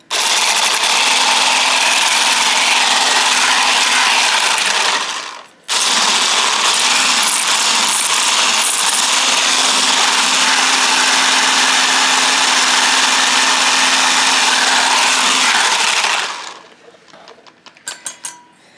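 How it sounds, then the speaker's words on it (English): An electric whisk whisking marinade in a small bowl gives a loud, continuous mechanical whir. It cuts out briefly partway through, runs again at full strength, then stops, leaving a few small clicks. "So, now when I use this whisk on a small bowl,"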